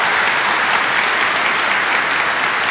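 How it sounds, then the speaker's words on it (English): A TV studio audience gives a round of applause, dense and even clapping that holds steady and fairly loud from start to finish with no talk over it. "what about a round of applause?"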